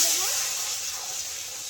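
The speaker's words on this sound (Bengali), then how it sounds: "এবার আমি জল দিয়ে দেবো।" Water poured into a hot kadai over fried mustard seeds and curry leaves in white oil, giving a steady loud hissing sizzle that fades gently.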